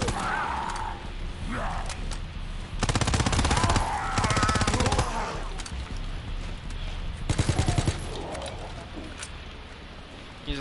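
Call of Duty WW2 machine gun fire in bursts: several rapid, rattling volleys of a second or two each, standing out loudly over a constant game ambience.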